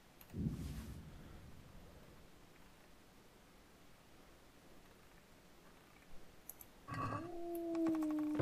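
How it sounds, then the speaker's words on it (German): A dog in Kingdom Come: Deliverance gives a short bark at the start, then a drawn-out, howling bark later over faint background ambience. "Schnauze, Hund."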